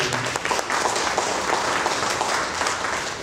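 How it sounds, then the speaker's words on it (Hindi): Audience clapping fills an achievers award ceremony, a steady, fairly loud wash of many hands that continues evenly without pause or speech. "इतनी देर में ताली बजा लो"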